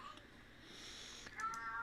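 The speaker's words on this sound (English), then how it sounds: "You hear this cat?" A cat meowing faintly in a room during a live radio broadcast, a few thin drawn-out cries over a low background hiss.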